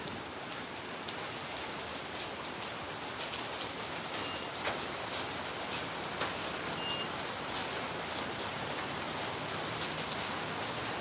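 Steady moderate rain falling in Phnom Penh during the rainy season, a continuous dense hiss of drops on surfaces with occasional louder spatters, even and unbroken for the whole stretch.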